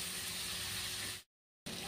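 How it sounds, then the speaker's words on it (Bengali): Prawns and finely chopped onion frying in a pan, a steady loud sizzling hiss that cuts out abruptly for a moment, then resumes. "এবারে আমি ওর সঙ্গেই পেঁয়াজ কুচি দিয়ে দেবো। এখানে ছোটো সাইজে 2টো পেঁয়াজ কুচিয়ে দিয়েছি, দিয়ে ভালো করে ভাজা ভাজা করে নেবো।"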